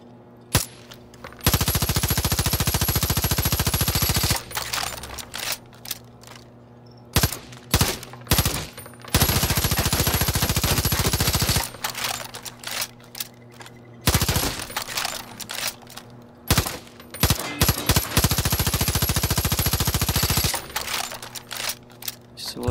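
Bursts of gunfire from elite weapons in the video game Far Cry New Dawn, loud sustained automatic volleys of several seconds alternating with quick single shots and short pauses, with no voices.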